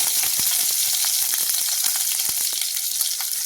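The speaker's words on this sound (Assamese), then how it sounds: "যিহেতু লগতে এয়া পিঁয়াজ এখন দি দিছোঁ" Onion sizzling in hot oil in a wok alongside cumin and chillies, a steady dense frying hiss with scattered crackles and pops, fairly close and continuous throughout.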